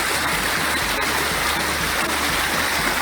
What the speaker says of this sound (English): Quite fast flowing here to cross.